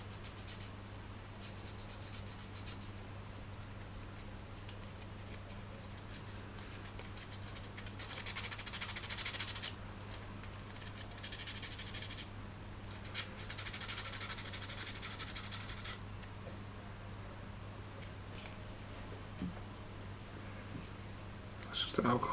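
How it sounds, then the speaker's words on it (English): Sandpaper is rubbed on a 3D print in several scratchy bursts of a few seconds each, separated by pauses, over a steady low hum. "I'm just going to take a little bit of sandpaper."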